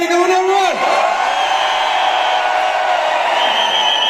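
At a Vestige award function in Thyagraj Stadium, the audience bursts into a loud, unbroken roar of hooting and cheering. A high whistle-like whoop sweeps down early and many voices keep shouting steadily.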